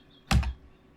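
A single short burst of computer-keyboard typing, two quick clicks close to the microphone, loud against an otherwise quiet background.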